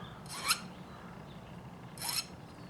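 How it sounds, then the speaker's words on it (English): Two separate strokes of a file rasp against the bevel and tang of a guitar fret, one sharp and brief, the next longer, close up over quiet room noise. "I'm filing the bevel, I'm filing the tang back at a slight angle."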